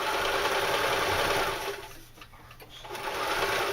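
Sewing machine running a tight fold on a leather knife carrier, a loud continuous mechanical whir that dips briefly midway, then resumes at full speed.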